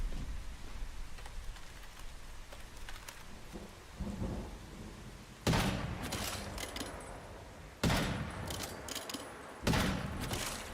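Gunfire in the survival shooter game Once Human: three loud, sharp blasts spaced a couple of seconds apart, standing out over a rumbling, hissing background with no speech.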